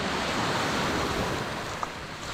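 Sea waves wash steadily onto the beach at San Juan, Batangas in the morning, a continuous broadband surf roar with light wind buffeting the microphone and no voices.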